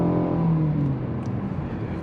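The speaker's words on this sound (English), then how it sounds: "we can hear a little bit more of the engine coming in through the speakers" Steady engine drone of a 2023 Nissan Altima heard from inside the cabin while driving, a continuous low hum with some road noise and no talk.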